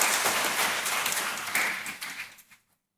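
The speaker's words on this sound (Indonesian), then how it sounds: "Saya minta tepuk tangan untuk Romo Bimo dan keluarganya." Congregation at a Catholic first mass applauding, a moderate wash of clapping in a large church that thins and fades out to silence near the end.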